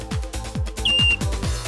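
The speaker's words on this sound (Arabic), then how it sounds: "أنت الحكم، صفارة عندك" A referee's whistle gives one short, shrill blast at the start of a beach race for boys under twelve, heard over rhythmic thumping background sounds.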